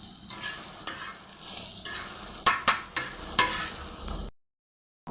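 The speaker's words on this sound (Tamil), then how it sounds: "நாம் பொடியாக நறுக்கி வச்சுருந்த வெங்காயத்தை லைட்டாக அப்படி திருப்பி எடுத்துக்குவோம்." Finely chopped onions being stirred and fried in a pan, a steady sizzle broken by several sharp scraping stirs near the end, close and fairly loud, with no talking.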